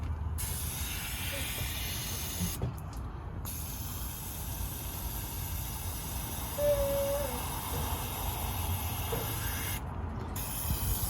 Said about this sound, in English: Mr. Muscle sprayed into it as much as possible